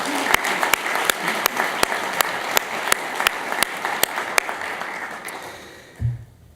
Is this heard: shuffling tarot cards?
no